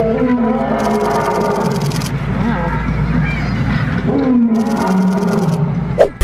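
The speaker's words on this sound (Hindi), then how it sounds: "अक्सर आपने शेर को दहाड़ते हुए जरूर सुना होगा" A lion roaring, deep drawn-out roars with a rising and falling pitch, heard twice and fairly loud, with a voice speaking over them.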